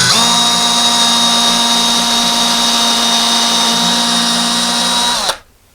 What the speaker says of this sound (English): We're going to just drill it just to the depth of the tape.